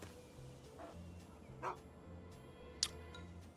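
A dog in the video game Fallout 3, in the Tranquility Lane simulation, gives a few faint, short barks and yips spaced apart over a quiet background hum.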